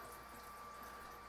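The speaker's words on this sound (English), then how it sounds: "So I'm going to use this spoon and just get water from the tap." Cold water runs steadily from a kitchen tap into a tablespoon, a faint, even, continuous flow with no voices.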